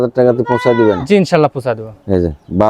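A young male goat kid bleats repeatedly in loud, wavering cries, close by on a goat farm, with short gaps between calls.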